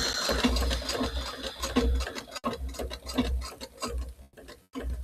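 A home sewing machine stitches in a steady, fast mechanical rhythm with a low motor hum, close up and continuous apart from two brief stops.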